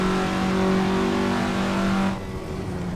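A car in Assetto Corsa accelerating hard, a loud steady engine drone held near, then easing off abruptly after about two seconds.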